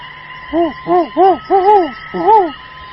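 An owl hoots five times in a slow, clear series, each call a rounded, resonant note standing out near and loud over a faint, quiet background.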